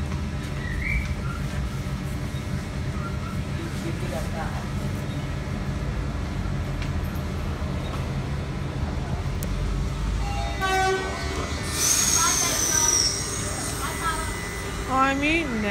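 Train pulling out of Beenleigh station, a steady rumble of rolling carriages with a couple of short horn toots near the end, heard close with people talking nearby.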